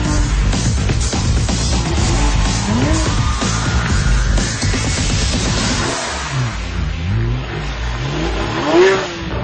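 A Porsche 911 GT3 RS engine revs and accelerates hard with rising, falling pitch sweeps, loud and close, with tyre noise and music underneath.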